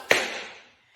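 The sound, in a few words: tap shoe drawback steps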